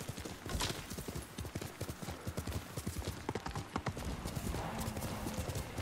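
Horse galloping in the video game Ghost of Tsushima: steady, rapid clip-clop hoofbeats run throughout, close and loud, with a brief whinny and faint game ambience underneath.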